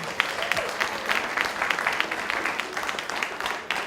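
Audience applause after a guest at a poetry reading and book talk at a literary expo, a steady dense patter of many hands clapping throughout, fairly close and even.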